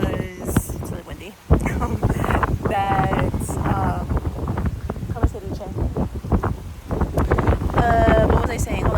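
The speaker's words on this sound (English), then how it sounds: "it's really windy" Strong wind buffets the microphone outdoors at Laguna Beach, rumbling gusts that rise and fall throughout while a person talks over them.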